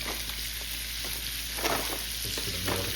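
A steak sizzles in a frying pan with a steady, dense hiss up close, joined by a few light scrapes and shifts as it is pressed and moved toward the middle of the pan.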